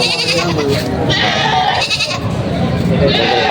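Goats bleat over a busy outdoor background while people talk nearby; the animal calls rise and fall under and between the voices.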